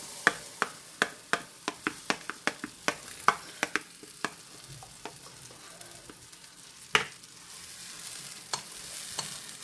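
Ghee sizzles in a pan on a gas stove as it melts, with soft crackle and a string of sharp pops and ticks scattered throughout. It is heard up close at a low level, with no speech.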